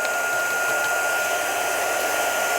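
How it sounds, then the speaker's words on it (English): A heat embossing tool blows with a steady, high whooshing hiss and a faint whine, constant and close, with no voices. "it's going to get noisy, I'm afraid, because I'm going to be putting my heat tool on"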